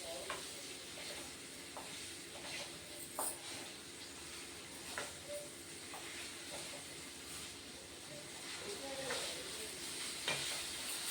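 Ingredients fry in a pan before grated carrot goes in: a continuous hissing sizzle with occasional stirring clicks runs steadily throughout, fairly faint and even.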